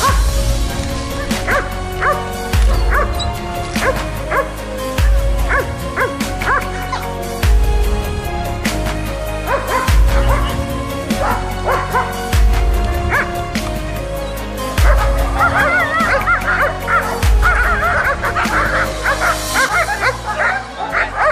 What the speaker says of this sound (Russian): Собачки здесь действительно реально красивые.